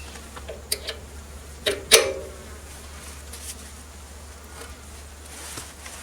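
Flying insects buzz close by around wet yellow paint on an old BIO100 chipper mulcher, a faint steady drone with a few sharp louder passes near the start.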